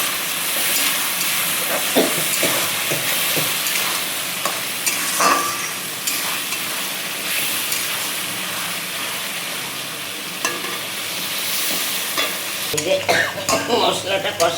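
Spice masala with Kashmiri chilli powder and a little sugar fries and sizzles in oil for a Bengali mullet fish curry, with steady hissing broken by scraping stirs and a busier clatter of stirring near the end.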